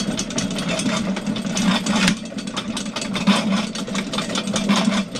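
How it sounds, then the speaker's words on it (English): A drain auger runs inside a French drain clean out in tight quarters, giving a steady close mechanical whir with a low hum and gritty rattling that continues throughout, no talk. "this auger does not come with automatic feed, which I prefer anyway"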